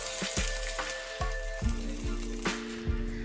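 Water hits a hot pan of seared veggie dumplings and erupts into a loud, steady sizzle and crackle, with sharp pops and hissing bursts recurring throughout.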